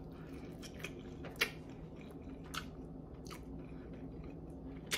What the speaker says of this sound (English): Let me let y'all hear me smack.